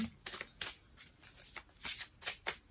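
Tarot cards are cut and shuffled in a run of crisp, papery riffles and slaps, about eight distinct bursts spread unevenly over a few seconds, close up and fairly quiet with no talking.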